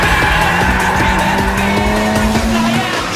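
A Toyota AE86 races hard in an anime street race, its engine roaring at high revs with a steady whine while tires squeal continuously, loud and close throughout.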